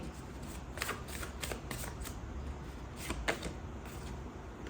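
Tarot cards being shuffled by hand in quick repeated riffling bursts, close and crisp over a low background hum, with no talking.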